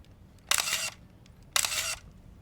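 Two sharp shutter-and-flash firings from a Pentax SF7 35mm film camera, each a bright mechanical burst of about half a second, spaced roughly a second apart, close and clear over a quiet room.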